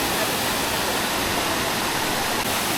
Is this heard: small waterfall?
yes